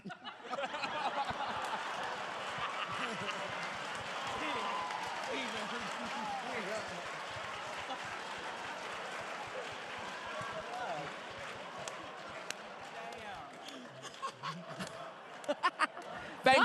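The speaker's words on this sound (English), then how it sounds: "Thanks for the applause." A studio audience at a RuPaul's Drag Race All Stars conversation event applauds and cheers in a long, dense, steady roar, thinning toward the end as a few louder claps pop through.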